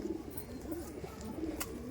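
Kalshira pigeons from West Bengal coo in soft, repeated low phrases, several overlapping calls close by over a steady background.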